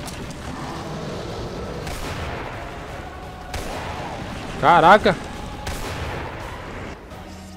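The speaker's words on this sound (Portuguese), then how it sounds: "É, tô errando muito tiro, velho." Gunshots in the video game Resident Evil 4 arrive as a few spaced, sharp blasts over steady game ambience, and a brief exclamation from a player is heard.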